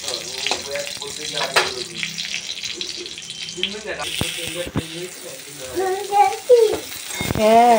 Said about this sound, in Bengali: এবার আমি শুকনো লঙ্কাটা দিয়ে দিচ্ছি, দুটো শুকনো লঙ্কা এখানটায় দিচ্ছি ভালো করে।